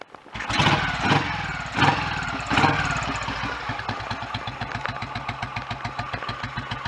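A Royal Enfield Electra motorcycle engine, warm from a recent ride, catches after a few loud revs and settles into a steady, close, thumping idle with an even rhythmic beat.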